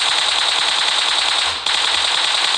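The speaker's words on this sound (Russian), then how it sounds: "Ну, это кто там стреляет нас? Ну, кто сзади стреляет." Sustained automatic gunfire in the mobile battle royale game PUBG Mobile, coming from behind the player, forms a loud, continuous rattling roar with a brief dip near the middle.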